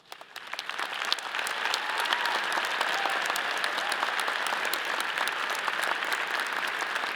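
Sustained audience applause fills a university commencement ceremony hall, rising quickly from the start into a steady, dense wash of many hands clapping with no voices on top.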